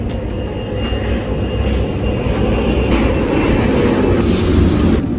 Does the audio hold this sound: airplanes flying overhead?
yes